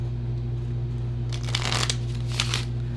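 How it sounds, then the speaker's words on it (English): A deck of tarot cards is shuffled in two quick riffling bursts, crisp and close, over a steady low electrical hum in a quiet room. "One more shuffle."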